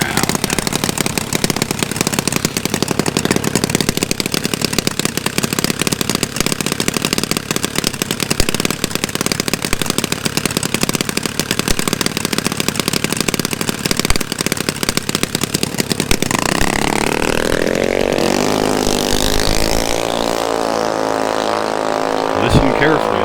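Junior motorcycle racing on a track, a high-revving engine roaring continuously close by before shifting and sweeping away as the bike passes, with a voice audible over the noise.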